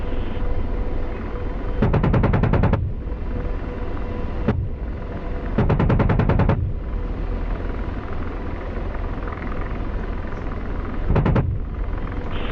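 An AH-64 Apache in the DCS combat flight simulator fires its cannon in three bursts of rapid, evenly spaced shots over a constant loud rotor and engine rumble, with no voices.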